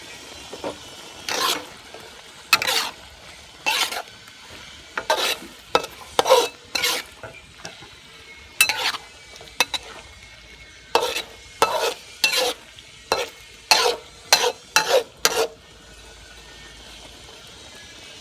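Ginger stir-fried in a pan while preparing tofu with beansprouts: repeated bursts of scraping and stirring against the pan over a low sizzle, close and steady, with short pauses between strokes and no talk.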